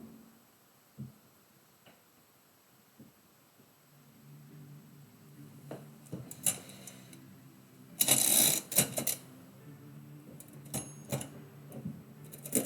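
A typewriter used to type poetry gives sparse, isolated clacks at first. Denser bursts of keystrokes and a loud carriage-like clatter follow, over a faint steady hum.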